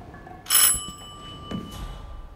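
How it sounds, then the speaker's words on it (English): A doorbell in the game Hitman 3 gives a single bright metallic ring that fades out, followed by faint soft thuds in a quiet scene. "And then ring the doorbell."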